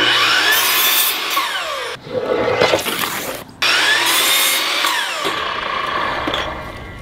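A power saw cuts through 1x2 wooden boards in loud, sustained passes, briefly pausing between cuts before grinding on again close by.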